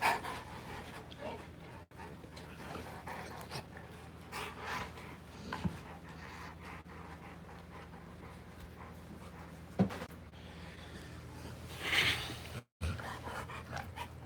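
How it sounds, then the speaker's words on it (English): Two male pit bulls, a giant father and his son, playing together indoors with steady close panting and occasional snorts, faint and continuous with a couple of sharper bumps. "It's two male dogs playing around, father and son."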